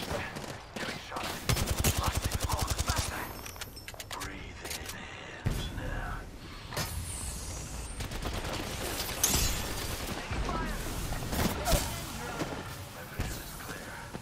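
Rapid bursts and repeated gunshots from an Apex Legends Arenas match, dense automatic fire with crashes and impacts running throughout, loud and close, with occasional game voice lines.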